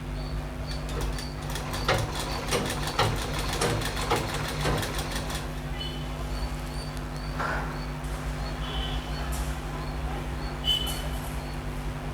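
A sewing machine stitching along the edge of a chudithar pant, with a rapid rhythmic run of needle clatter at the start, then slower, softer mechanical sounds and a steady hum.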